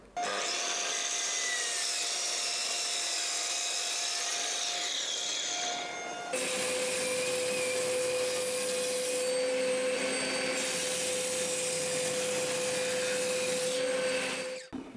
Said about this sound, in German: werden wir uns jetzt mal die Bohle abrichten, zurechtsägen auf 19 cm